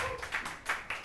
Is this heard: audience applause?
yes